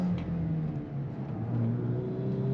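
A Volkswagen Golf R engine in race mode hums and rises steadily from inside the cabin, a low droning rumble with climbing tone as the driver short shifts, heard without talk.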